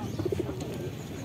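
A tempas pigeon coos a short low burbling phrase of a few notes, close by, over a murmur of background noise at a market.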